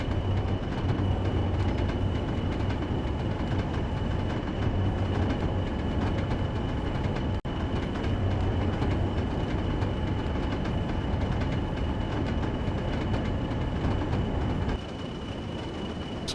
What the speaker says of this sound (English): I do love these old BR diesels.